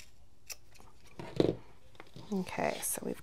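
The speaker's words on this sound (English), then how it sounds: "you're gonna cut right into that corner without cutting your stitches" Scissors snipping into fabric corners close to a sewn stitch line, a few short crisp cuts at close range with quiet gaps between them, and a person talking softly alongside.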